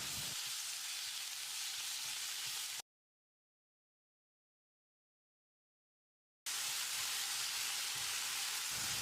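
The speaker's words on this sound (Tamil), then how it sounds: "இதை போட்டு மசிகிற அளவுக்கு வதக்கிடலாம்." Chopped native tomatoes sautéing in a pan, giving a steady hissing sizzle that runs loud for a few seconds, cuts out to silence, then returns just as strongly.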